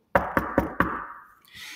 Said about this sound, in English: Then she went along the corridor and knocked on Thomas's door